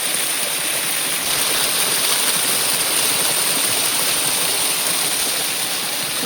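A small waterfall on a private plantation pours over large rocks, producing a loud, steady rushing roar of falling water nearby, unbroken and with no voices.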